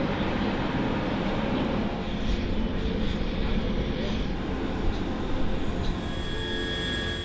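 Large US military helicopter departing during an invasion exercise, a steady loud roar of engines and rotor wash that stays constant throughout, close by and with no talking over it.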